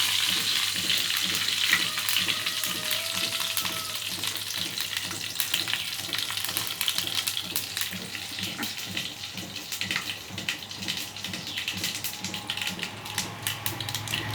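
Curry leaves fry in hot oil with a steady, dense sizzle and crackle that holds throughout, close and even, with no talk.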